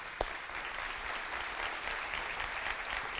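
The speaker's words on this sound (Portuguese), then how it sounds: "Quer aplaudir? Pode aplaudir" Congregation in a church applauds, a soft steady wash of many hands clapping at some distance, continuous throughout with no talking over it.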